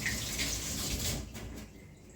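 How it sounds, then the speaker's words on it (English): Tap water runs steadily as a finger is rinsed during fabric dyeing with turquoise powder, a close, continuous broadband splash that tapers off near the end. "So let me rinse my finger."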